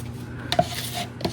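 A resin mixture is scraped from one vessel into a container in a short burst of close scraping and tapping, with one sharper knock in the middle and a lighter scrape at the end.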